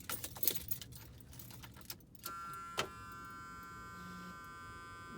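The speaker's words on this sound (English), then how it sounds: "There, the fuel pump right there. That was a short prime for whatever reason." A brief electric whine of an external fuel pump priming in a budget LS-swapped car with a stock 5.3 and 4L60E, heard as a short steady hum after keys jangle in the ignition, fairly faint and close.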